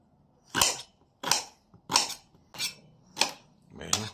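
Celery stalks chopped with a knife on a board while preparing a lamb broth: six crisp, close knife strikes at an even, unhurried pace, with quiet gaps between them.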